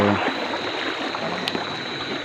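River water rushing past around a boat midway across, a dense steady wash of close flowing water with faint clunks, no speech heard.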